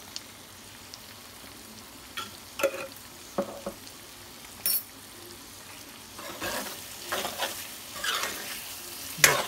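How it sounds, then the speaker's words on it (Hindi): Goat offal (pota kaleji) is fried with coriander and cumin powder, village style. A pan is stirred with repeated scraping strokes over a soft sizzle, and the stirring grows busier and louder toward the end. There is no speech. "इसको भूनना है गाइज फिर से।"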